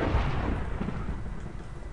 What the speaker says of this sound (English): he's going to die by lightning